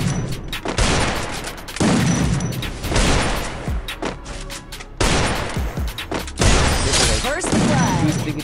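Bursts of gunfire during a fight in Free Fire, loud rapid volleys of shots in several clusters separated by brief gaps, heavy and close, with some talking mixed in.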